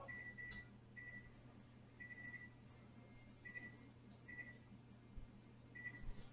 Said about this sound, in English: Take your cobbler, put it in, and we're going to set a timer